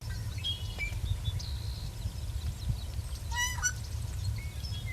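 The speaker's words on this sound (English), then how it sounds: "a call that sounds like a rusty farm gate opening" A wild bird in Michigan gives a creaky, rising call like a rusty farm gate swinging open. It sounds faint over a low steady rumble, with a few other thin chirps nearby.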